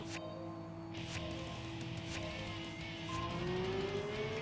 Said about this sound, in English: The engine sound on it. That does not sound stock.